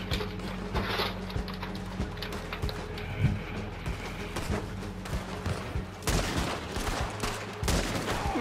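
Repeated gunfire cracks in Red Dead Redemption 2 come in scattered single shots and clustered volleys over a low, rumbling game background, with no talking.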